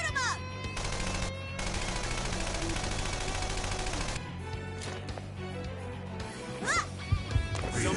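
Gunfire in the video game Persona 5 Strikers: a sustained barrage of rapid automatic fire, then scattered shots and combat effects, with a voice speaking over the battle.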